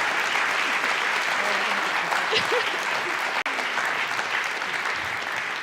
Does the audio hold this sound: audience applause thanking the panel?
yes